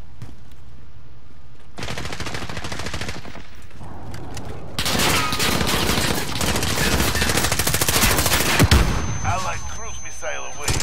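Rapid P90 submachine gun fire in Modern Warfare, loud, sustained automatic bursts, starting after a brief quieter stretch, with battlefield noise and a distant radio-style voice behind.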